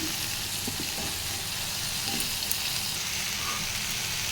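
Vegetables sauté in a pan with onion paste, cumin, turmeric, chilli powder and salt, giving a steady, close, continuous sizzle with faint scraping and no talk.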